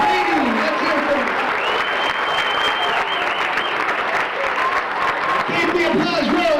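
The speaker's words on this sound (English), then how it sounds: "Give him a big hand, Derek!" Audience at an elementary school graduation clapping continuously with crowd noise, while a voice talks over the applause and a whistle-like tone sounds partway through.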